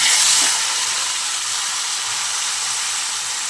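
Radhuni seeds tempering in hot oil left from frying fish, a steady close hiss and sizzle that is loudest in the first half-second and then settles to a constant crackle, with no voices.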